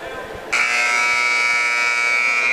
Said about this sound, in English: About 10 seconds away from the buzzer